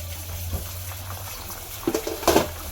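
Mung bean soup with squash and bitter gourd simmering in a covered pot, a soft steady bubbling with a low hum, rising to a couple of brief louder gurgles near the end.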